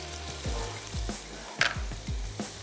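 Thin chicken strips and capsicum sauté in a pan with a constant sizzle, broken by several rhythmic scraping strokes of stirring, close and fairly loud.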